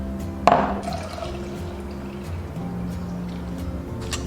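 Milk is poured slowly into a bowl along a chopstick held at the rim, with a soft splash at the start and then a quiet, steady trickling stream.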